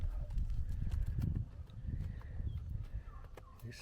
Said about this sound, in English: He's such a friendly donkey.